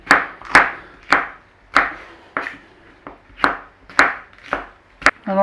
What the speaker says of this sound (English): Now you cube it or slice it, whatever you want, it's up to you